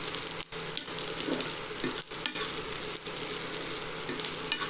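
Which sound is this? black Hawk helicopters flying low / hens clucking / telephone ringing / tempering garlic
tempering garlic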